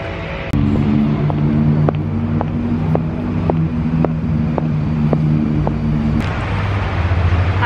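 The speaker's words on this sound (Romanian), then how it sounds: "Acum se aude traficul" Street traffic on a London road makes a loud, constant low rumble of engines, with faint regular clicks throughout and a shift in the drone near the end. No one speaks.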